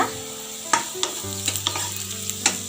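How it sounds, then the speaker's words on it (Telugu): Ragi dosa roasting in oil on a hot pan, a steady soft sizzle with a few sharp scraping clicks from a spatula, close and fairly quiet, no voices. "ఇప్పుడు అది కాలనిద్దామండి దోశ"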